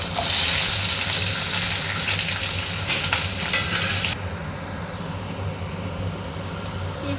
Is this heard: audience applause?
no